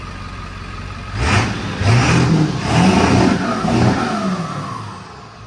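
A 7.3 diesel truck engine revs several times during a test drive, a deep, loud mid-range roar rising and falling in repeated surges before settling back down.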